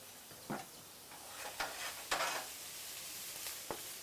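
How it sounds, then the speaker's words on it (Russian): Ginger fries in oil in a pan with a faint, steady sizzle, broken by a few sharp stirring scrapes and ticks that stand out near the pan. "Сначала обжариваем имбирь, чтобы он отдал все свои ароматы, масла."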